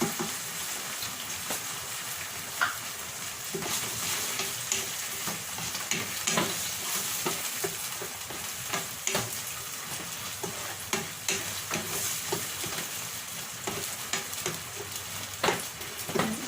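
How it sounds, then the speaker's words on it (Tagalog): Tomato sauce for beef kaldereta sizzles in a pan, a steady soft frying hiss broken by frequent clicks and scrapes of stirring, close and moderately quiet, with no voices. "igisa natin yung tomato sauce para mas masarap ka"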